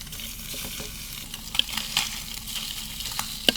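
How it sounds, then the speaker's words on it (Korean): Spam sizzles on the lid of a mess tin used as a frying pan, a steady hiss with scattered small crackles and pops, heard close and alone. "뚜껑을 후라이팬처럼 이용해서 구이를 해보겠습니다"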